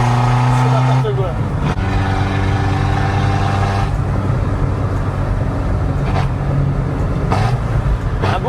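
A Skoda pickup drives along the road with a loud, steady engine drone and shifting revs, while someone talks over it.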